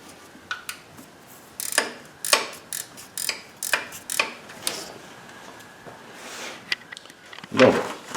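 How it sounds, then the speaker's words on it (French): Ratchet wrench clicking in short bursts while a bolt is removed from a 2010 Cadillac CTS engine during timing-cover work, the clicks close and fairly crisp with brief pauses between strokes. "avec une clé ratchet, la vie est belle"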